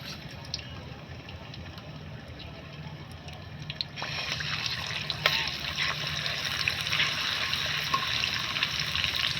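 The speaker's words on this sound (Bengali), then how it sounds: "তেলটা মোটামুটি প্রায় গরম হয়ে গেছে। এখন এই যে রসুন ছাঁচাটা দিয়ে দিব।" Crushed garlic hits hot oil for a raw mango pickle, and after a few seconds of quiet, low bubbling the sizzle jumps to a loud, steady crackle that keeps going to the end.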